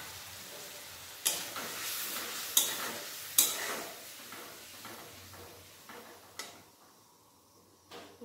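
Water-soaked spice paste fries with melted tomatoes in a pan, a soft sizzle broken by several sharp scrapes and clacks of a spoon stirring, fairly quiet and close.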